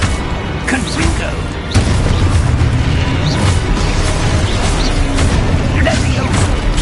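Spell explosions from the Confringo blast in Hogwarts Legacy on PS5, a dense rumbling mix of booms and crashes with a heavy impact near two seconds, under loud game effects and voices.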